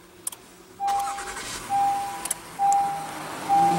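A 2016 Honda Pilot with a 3.5 liter V6 starts by push button: a couple of soft clicks, then a low engine hum under four evenly spaced electronic chime beeps, close and moderately loud with no talking.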